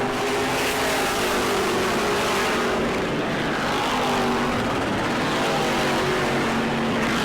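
E-Mod race cars roar around the oval at New Smyrna in a pack, a sustained loud engine drone with shifting pitch as cars pass, no voices over it.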